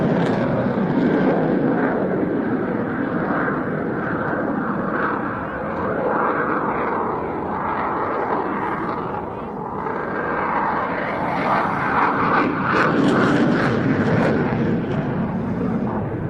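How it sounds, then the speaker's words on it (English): Display jet at an airshow powering up and pulling into a vertical climb, a loud, continuous roar of engine thrust that swells and holds steady throughout, with a faint voice underneath. "he just powered the aircraft up and just pulled it away into the vertical"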